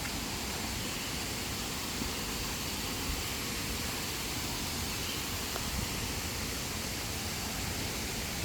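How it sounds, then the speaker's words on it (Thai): A waterfall near a campsite at Saraburi, Thailand, roaring as a steady broadband rush that fills the whole stretch with no break or change. "เป็นน้ำตกครับ"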